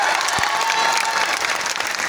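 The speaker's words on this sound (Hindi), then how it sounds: "तालियां बज जाएं" Steady, dense applause from a large crowd at an education ceremony in Gyan Bhawan, Patna, loud and continuous throughout with no pauses.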